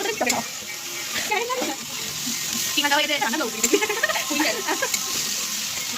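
Spice paste (masala) sizzling and frying in a pan during home cooking, a steady crackling hiss with stirring scrapes, while people talk nearby over it.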